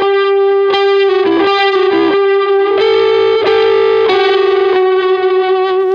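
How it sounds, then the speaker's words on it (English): An electric guitar runs loud and distorted through a delay effect with its feedback rolled off and its level raised, so a few strong repeats trail each sustained note and chord change, with no talking. "if we bring in that same sound but I roll off the feedback but up the level"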